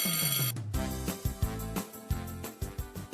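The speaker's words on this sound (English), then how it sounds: "the dismissal bell is ringing" A school dismissal bell rings loudly: a sustained tone gives way to a run of rapid, repeated ringing strikes that carry on to the end, with no talking.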